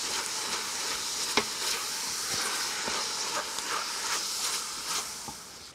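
Ground meat and tomato paste sizzle in a hot pan while being stirred for a chili con carne, a steady hiss broken by scattered soft scrapes and pops.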